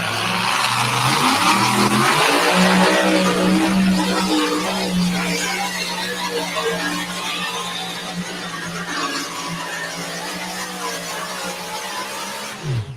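A pulling truck's engine roars loudly and steadily during a sled pull, the revving holding at high volume for the whole stretch with a strong low drone and no talk over it.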